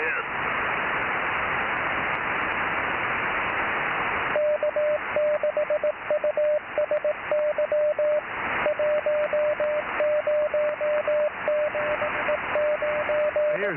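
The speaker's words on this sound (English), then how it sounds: "I hear CW in the background, very faint." Faint CW Morse code on an amateur radio net: a steady keyed tone beeps in irregular dots and dashes through hissing receiver noise, starting after a burst of static and continuing to the end.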